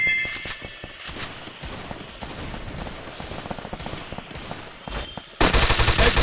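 Repeated gunfire in a video game, shotgun blasts and rapid shots in quick bursts over a busy game soundscape, ending in a sudden loud, dense burst of noise.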